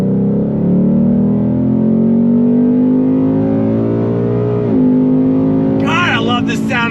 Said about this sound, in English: God, I love the sound of that V8.